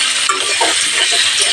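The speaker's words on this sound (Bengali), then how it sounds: "আলু লাল লাল করে ভেজে নেব।" Small round potatoes, boiled and peeled, fry in hot oil with a steady, loud sizzle and crackle, broken by occasional scraping stirs.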